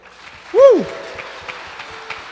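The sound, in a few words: church congregation applauding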